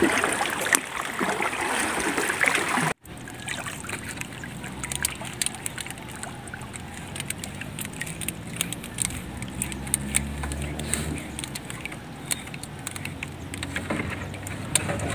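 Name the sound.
heavy rain while catching crabs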